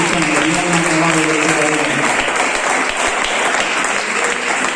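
A church congregation breaks into loud, sustained applause during a sermon. The thick, continuous clapping carries on throughout, with a voice sounding over it at the start.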